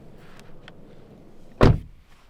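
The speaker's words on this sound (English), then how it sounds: "Let's even close the door too." Kia Stinger car door swung shut from inside the cabin: one solid, heavy thud after a couple of faint rustles, close and loud, then quiet, no talk.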